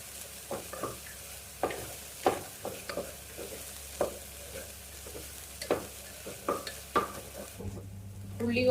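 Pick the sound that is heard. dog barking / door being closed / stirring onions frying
stirring onions frying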